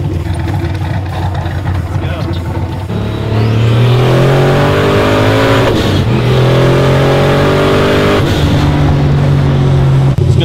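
A 1969 Camaro with a turbocharged LS engine swap idles and then accelerates hard, its loud engine note climbing steeply through two gear pulls, recorded from inside close up.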